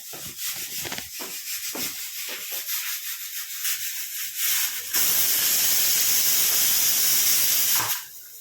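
Flour dough for missi roti being kneaded by hand, with soft rubbing and slapping strokes in an irregular rhythm, followed by a longer steady hissing scrape near the end.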